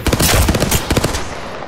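Rapid automatic gunfire from the Apex Legends shooter, a loud burst of closely spaced shots in the first second followed by a few more spaced rounds that trail off.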